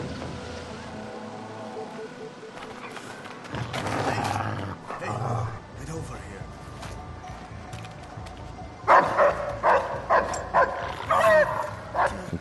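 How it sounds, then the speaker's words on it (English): Dogs barking in Splinter Cell Blacklist, a series of loud, close barks in a rhythmic run near the end, following earlier mixed rumbling game sounds, with some talk in between. "dogs are indeed back, and they can be pretty tough to deal with"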